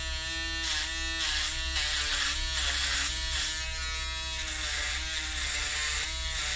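An electric hair clipper trims a beard, giving a close, steady buzz that rises and dips slightly as the blades move over the hair.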